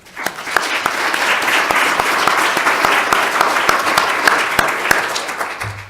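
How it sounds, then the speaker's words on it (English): An audience at an annual general-session forum applauds its speakers: dense, steady clapping from a large crowd, loud and sustained throughout with a few sharper individual claps standing out. "I'd like to applaud them"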